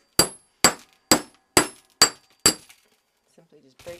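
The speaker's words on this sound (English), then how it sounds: "I have a chisel and a hammer and I" Hammer striking a chisel to break up a block of beeswax: six sharp, ringing metallic blows at an even pace, close and loud, followed by a few faint clinks and rustles.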